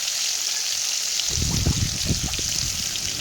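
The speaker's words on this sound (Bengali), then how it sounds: "মাছটা তেলটা ভালোই গরম হয়েছে, মাছটা দেওয়ার সাথে সাথে উঠে গেল।" Fish dropped into hot, smoking oil for a fish curry with drumsticks, a steady bright sizzle with bursts of bubbling crackle as it hits the pan, close and loud with no talk.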